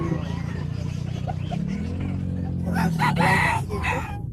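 Over a busy market din in Pampang, Angeles City, a rooster's crow rises toward the end, moderately loud, with other fowl and background commotion around it.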